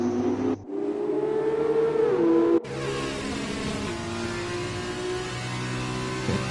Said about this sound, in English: It's hard to hear with these loud engines.